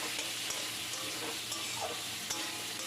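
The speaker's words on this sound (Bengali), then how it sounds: "আলুগুলো ভালো করে আবার নেড়ে চেড়ে নিচ্ছি, একটু ভাজা ভাজা মতো" Potato pieces frying in a pan for a lau chingri dish, a soft steady sizzle with faint stirring scrapes throughout, quiet and close, no voices.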